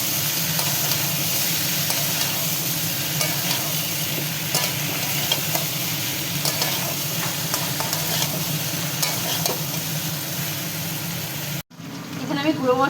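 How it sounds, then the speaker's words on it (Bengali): Ginger being stirred in hot oil in a pan, a steady loud sizzle with scraping stir strokes throughout, then a brief break and softer sizzling at the end. "এর কাঁচা গন্ধটা চলে যাওয়া পর্যন্ত আমি এটা একটু নাড়বো।"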